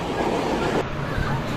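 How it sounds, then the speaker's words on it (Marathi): A local train rolling into Virar station, a steady rumble of wheels and carriage noise that stays loud and close throughout, with faint rattling over the rails. "विरारमध्ये एंट्री मारलेली आहे ट्रेनने."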